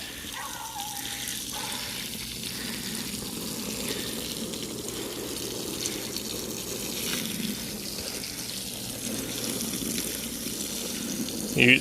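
Water rinsing through a wool rug during a urine-treatment cleaning, a steady broadband wash of flowing, splashing liquid that runs continuously for the whole stretch, with a brief louder burst at the very end.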